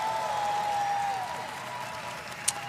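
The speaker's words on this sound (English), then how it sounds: "Everyone's cheering." A large crowd at an E3 press conference applauds and cheers, a dense steady wash of clapping that slowly thins out, with a sustained tone fading early on.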